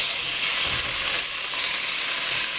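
Beef frying in a pan of hot olive oil, a bright, steady hiss of sizzling fat that holds loud and even, with no talk.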